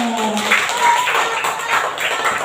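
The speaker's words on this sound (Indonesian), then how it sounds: "Tepuk tangan dong." A classroom of students applauds after a group's presentation, a steady, dense patter of clapping that lasts throughout, with a voice briefly heard at the start.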